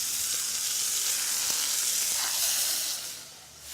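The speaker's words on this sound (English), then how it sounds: "now you want to put it in a preheated saute pan with the clarified butter. Add the seasoned scallops right to it." Seasoned scallops dropped into clarified butter in a preheated sauté pan give a loud, continuous close sizzle and hiss that holds steady for several seconds before easing off slightly.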